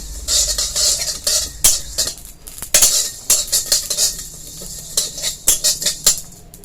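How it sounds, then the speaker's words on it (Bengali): Spices sizzle in a pot while a spoon scrapes and clinks against the metal in irregular bursts, close by. "দুটো একসাথে করে ভেজে নেব।"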